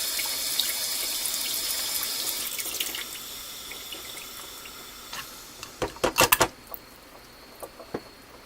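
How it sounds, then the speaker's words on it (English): Water is poured off cooked stuffed cabbage with bacon in a pot, heard as a soft steady stream and splash, then a short burst of louder splashes and drips near the end. "Tilt that a little bit to get the water off the top."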